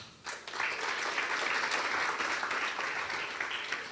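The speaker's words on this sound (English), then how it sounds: "A round of applause, please." At a book launch event, an audience in a hall claps in steady, even applause. It swells up after a short quiet start and stays sustained, sounding a little distant and moderately soft.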